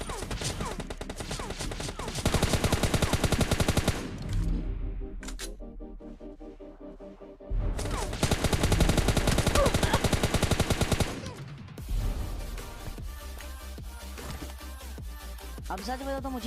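Bursts of rapid automatic gunfire from a Free Fire battle royale mobile game, loud dense volleys separated by short quieter gaps with game effects in between.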